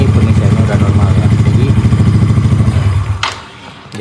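A motorcycle engine runs loud and close under throttle, a rough, pulsing drone that holds steady and then drops away near the end, during a check of the bike's battery charging.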